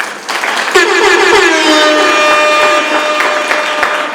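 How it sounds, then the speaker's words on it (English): An audience at the Dynamic Ladies awards applauds loudly, with a sustained horn-like tone and music rising over the clapping partway through. "I believe that Dynamic Ladies really, really deserve a round of applause."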